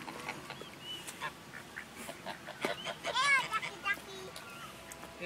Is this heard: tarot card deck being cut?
no